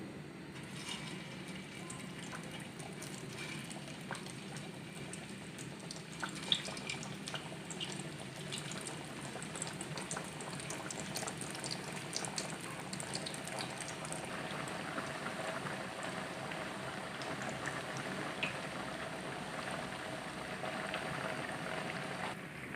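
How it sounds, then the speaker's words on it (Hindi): Potato tikkis fry in hot oil in a pan, giving a faint, steady sizzle and bubbling hiss that continues evenly throughout with scattered small pops. "अब हम टिक्कियाँ डालेंगे।"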